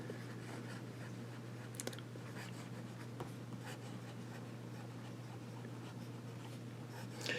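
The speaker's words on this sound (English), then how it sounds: "I can hear the pen, but it sounds very smooth." Fine-nib Nemosine Nickel Fission fountain pen scratching steadily across paper, a soft continuous stroke sound close up over a low steady hum, with no talking.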